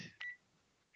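A microwave gives two short electronic beeps about three-quarters of a second apart, faint and thin against a quiet room.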